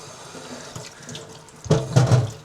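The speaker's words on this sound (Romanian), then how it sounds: "Spălăm ardeii." Bell peppers washed under a running kitchen tap, steady water flow that swells louder near the end as the peppers are moved under the stream.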